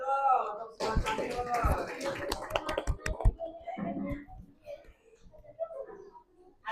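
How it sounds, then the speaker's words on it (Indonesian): A small group in a school drama lesson gives brief, scattered hand claps for the Skuad Santuy team, with sharp slaps clustered over a couple of seconds, amid nearby voices. "tepuk tangan dulu untuk Skuad Santuy"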